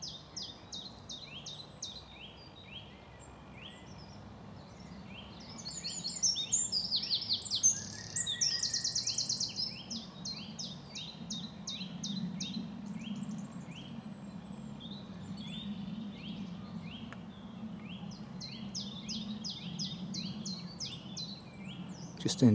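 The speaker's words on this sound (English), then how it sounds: "the chiff-chaff in that tree there." A chiffchaff sings its repeated two-note spring song from a tree beside a countryside walking path, the bright chirping phrases recurring through the clip over a low background rumble, with other birds calling nearby.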